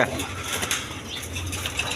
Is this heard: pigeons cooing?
yes